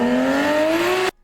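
A turbocharged BMW with a short exhaust revs up, its engine tone rising steadily in a loud, close drone with a buzzy edge before cutting off abruptly into near silence.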